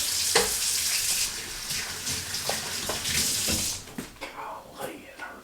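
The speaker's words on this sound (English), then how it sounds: "Wash my hands one more time." Tap water runs steadily into a sink while someone washes their hands in a home kitchen, a hissing continuous flow with brief splashes and knocks, then it stops and a few handling clatters follow.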